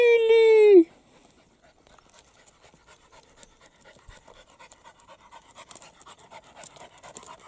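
Dog panting after a walk on muddy ground toward grass, a long high whine first, then quick, soft rhythmic breaths that grow slightly louder near the end.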